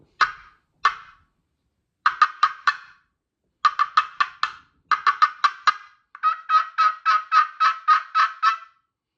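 Sharp, clipped turkey clucks from a glass slate friction call, first singly, then in quick bursts, ending in a longer rhythmic run of yelping notes.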